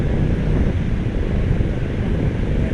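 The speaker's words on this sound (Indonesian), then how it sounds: "Untuk cuaca mendung-mendung, anginnya kencang teman-teman di Pelabuhan Bakauheni pagi ini." Strong wind buffets the microphone at Bakauheni seaport on an overcast morning, a constant loud rumbling roar with a faint wash of sea and harbour noise beneath, unbroken for the whole stretch.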